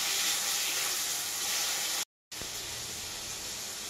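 Chopped tomato frying in a pan of oil after onions, a dense steady sizzle and hiss close up, broken by one brief silent gap before it resumes slightly quieter.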